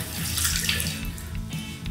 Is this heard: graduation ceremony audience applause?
no